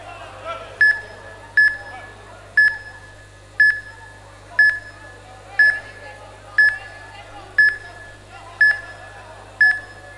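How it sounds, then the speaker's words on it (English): A fight timer at an amateur MMA championship beeps sharply once a second, about ten even pips in a row, over a low steady hum in the hall. "You can hear the timer counting down."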